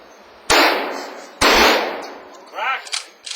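A pump shotgun fires two loud, sharp reports about a second apart at a Toronto police training school, each followed by a decaying echo, then metallic clacks of the action being racked.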